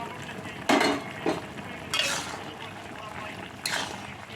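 Fried bitter gourd slices tipped into a pot of simmering shukto vegetables, three or four distinct clattering stirs and scrapes of a spoon over a low bubbling background.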